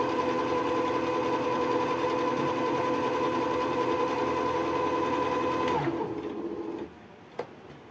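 A Jaguar KY-001P sewing machine with a metal body stitches on a table with a loud, steady mechanical whir that winds down and stops near the end, followed by a single small click.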